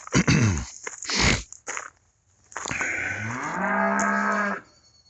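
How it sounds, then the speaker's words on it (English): Cows moo loudly and close by, a couple of short low calls followed by one long drawn-out moo, with brief pauses between them. "Cows are making a little noise out here."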